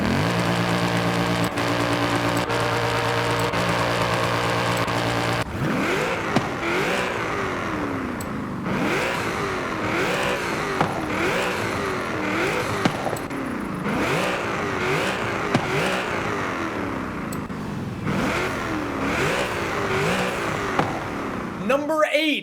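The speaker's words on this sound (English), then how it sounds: "Take a listen to the car revving as we scroll through different parts on the vehicle" A car engine in the video game Forza Horizon 5 revs and shifts pitch repeatedly, rising and falling in steady surges after a sustained droning tone, loud and close throughout.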